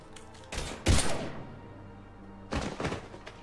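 Gunfire in the video game Mass Effect 3: two clusters of sharp, punchy shots with a heavy booming hit in the first burst, separated by a quiet gap.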